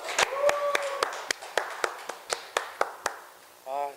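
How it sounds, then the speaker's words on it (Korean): Small group clapping at the start of a lecture-style class, a sparse, fairly even series of distinct hand claps slowing toward the end, followed by a brief voice. "오늘도 그 박수와 환호로 시작을 하도록 하겠습니다"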